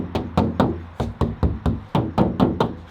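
Eleven or so crisp, evenly spaced knocks land on the back door of a 2011 Scion xB fitted with 80 mil sound deadening, each a short, dull thud close up.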